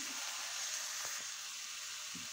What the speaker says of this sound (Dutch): Ik laat het nog even een paar minuten pruttelen op een laag vuurtje.